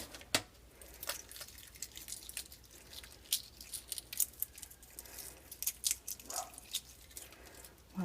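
A hard-boiled egg, cooked in a GoWise pressure cooker, has its shell peeled off by hand, giving soft intermittent crackles and small wet squishes near and quiet, with no voices.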